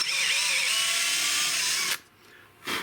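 A power drill whirs steadily at high speed for about two seconds while drilling into a Tikka T3 rifle stock, then cuts off abruptly, followed by a brief lull and a short restart.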